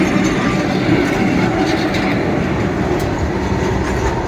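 A coal-laden freight train rolls past close by on the rail line, a steady loud rumble with wheel clatter throughout, heard alone without voices.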